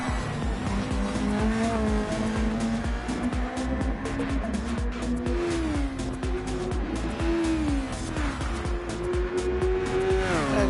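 Formula GT race cars cross the finish line at Interlagos in a racing game, engines whining and rising in pitch as they pass, with tire squeal and loud, continuous motor noise.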